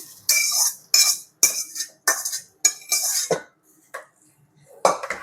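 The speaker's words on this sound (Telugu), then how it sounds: "వేసుకొని బాగా మిక్స్ చేసుకోవాలి." A metal spoon scrapes and clanks against a pot in a quick run of separate strokes, loud and close, as tempering is stirred into dal pongal.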